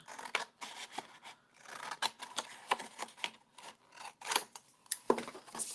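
Scissors snip through patterned craft paper in a run of quick, close, quiet cuts and rustles, irregular and crisp, with no talking.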